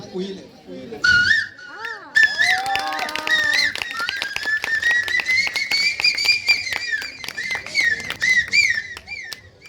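A voice imitates a koel's call, rising whistled notes repeated in quick succession, loud and close, with tapping clicks underneath.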